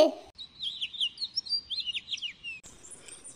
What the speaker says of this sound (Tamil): Finch, சிட்டு.